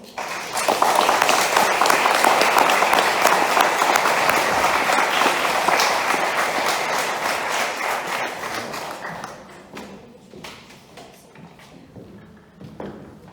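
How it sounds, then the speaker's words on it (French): A crowd applauds Olga Mikhailova at a memorial gathering for political prisoners in Russia, a loud, full burst of clapping that swells quickly, holds for several seconds, then thins out to scattered claps. "Je vous demande d'applaudir Olga Mikhailova."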